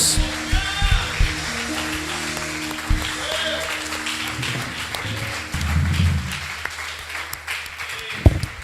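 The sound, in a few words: applause from church congregation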